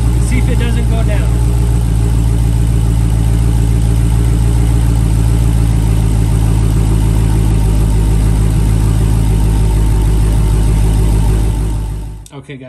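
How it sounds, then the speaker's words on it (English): A Dodge Hellcat engine running during a coolant flush, a steady deep idle hum heard up close and loud for about twelve seconds before cutting off abruptly. "we got the car running"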